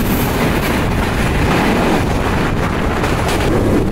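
The Kopotakkho Express passenger train runs on the Khulna to Rajshahi line, heard from on board as a loud, steady rumble with rushing wind noise and faint clatter from the rails.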